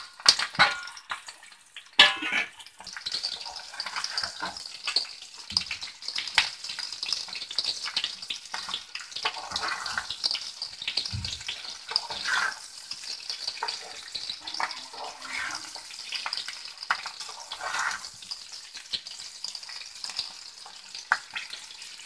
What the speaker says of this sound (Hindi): तेल हमारा गर्म हो चुका है, अब इसमें हम मिर्च डाल देंगे।